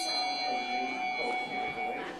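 Handbells rung off the table, lifted and swung upward by a ringing team, give steady overlapping tones that sustain and shimmer throughout, with faint murmuring in the background.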